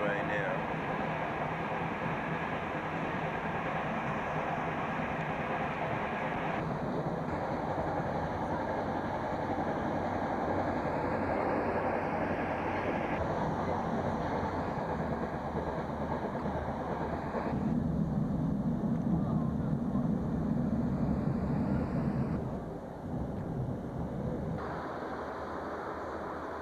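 A fast yellow train passes, a long, continuous rumbling roar with shifting pitch and wind-like noise, fairly loud and steady throughout, with some indistinct voice beneath.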